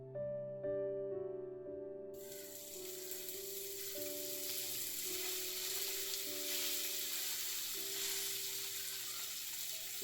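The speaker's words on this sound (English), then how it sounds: "So now I'm going to place the bread slices on the grill." Bread slices sizzle on a hot grill pan greased with a teaspoon of oil, the hiss and crackle rising suddenly and then holding steady and fairly loud over a soft musical backing, with no talk.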